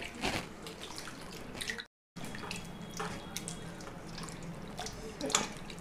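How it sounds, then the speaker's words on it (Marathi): Grated potato being rinsed in water, a soft continuous slosh and trickle of water with intermittent splashes, close and fairly quiet, broken by a brief silent gap. "आता हे खीस मी 2-3 पाण्याने चांगला परत स्वच्छ धुवून घेणार आहे।"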